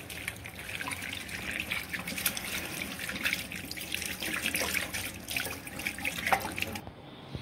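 Tap water runs steadily into a sink during handwashing at home, a continuous splashing flow with small drips over about seven seconds, then stopping abruptly near the end.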